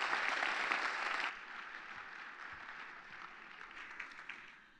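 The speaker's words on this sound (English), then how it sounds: "Please give her a nice round of applause." Audience applause fills a hall at a business event in the New York Public Library, loud and dense for the first second, then dropping to a softer, thinning patter of claps that fades out.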